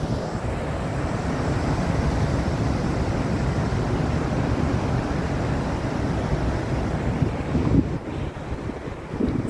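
Wind buffets the microphone on an Atlantic Ocean beach while waves roll and break steadily nearby, a constant loud rumble and wash with a stronger surge toward the end.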